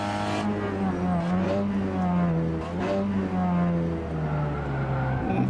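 A Peugeot 308 RCZ Racing Cup car at Tsukuba circuit, engine droning loudly from inside as it accelerates, pitch climbing through gears with a brief dip for a shift, steady and close.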